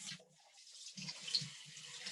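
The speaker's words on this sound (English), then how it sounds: "And I'm gonna rinse this in cool water so it stops cooking." Cool tap water runs steadily over a freshly boiled egg in a kitchen sink, a soft hiss of flow with low bumps where the egg and hand move under the stream, close and moderately quiet.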